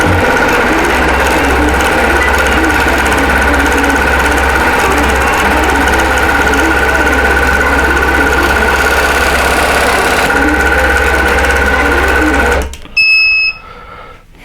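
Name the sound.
embroidery sewing machine stitching a quilt block design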